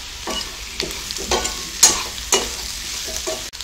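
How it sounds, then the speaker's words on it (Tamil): Potato masala fry with extra pepper powder being stirred in a heavy-bottomed pan on low flame: several distinct scraping strokes of a spoon against metal over a soft, steady frying sizzle, close by. "நல்லா கிளறி விட்டுக்கலாம்"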